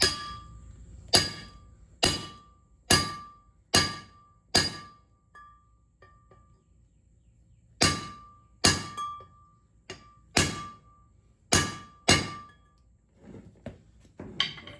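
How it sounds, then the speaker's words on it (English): A steel bar is hammered against the back side of a wheel lug on a 2006 Chevy 3500 dually: sharp metallic whacks in two bursts of about six strikes each, evenly spaced and close. "Put it on the back side of the lug. Just pound it in."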